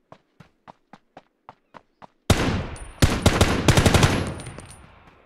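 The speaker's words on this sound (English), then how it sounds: "I think there is someone shooting TAC 50 or an M200." Sniper rifle fire from a TAC 50 or M200 in the Ring of Elysium video game: a steady run of light footsteps, then several loud, sharp shots with ringing echoes in close succession.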